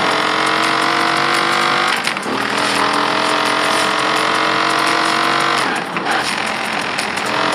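A Dodge Viper, a typical American car, in Forza Horizon 4 on Xbox Series X: a loud, rich engine roar holds steady with two brief gear-change dips, heard alone.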